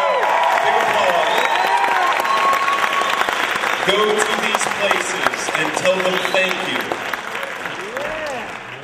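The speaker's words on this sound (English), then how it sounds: "So, big applause." Audience applauding sponsors at an evening event, steady clapping and some cheering running throughout and thinning slightly near the end, with someone speaking over it.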